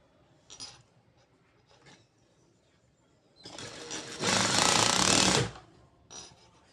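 An electric sewing machine stitches a blouse, starting with a couple of short whirs, then running in a loud, steady two-second burst of rapid stitching before stopping, with a brief whir at the end.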